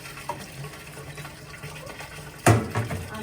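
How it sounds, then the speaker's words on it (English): Cold tap water runs over drained lasagna pasta in a kitchen sink, a faint steady flow that swells into a louder splashing gush near the end, with no speech. "I'm going to immediately run some cold water on it so that it can stop"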